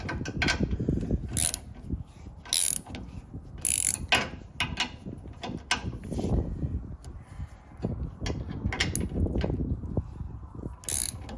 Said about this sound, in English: yeah, it's still gonna rattle.